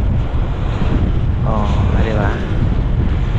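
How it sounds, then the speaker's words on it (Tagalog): Strong storm wind buffets an unshielded microphone outdoors by the sea on Guimaras island, producing a loud, continuous low rumble throughout, with a person speaking briefly over it. "galing dito yung hangin hindi siya naka-shield"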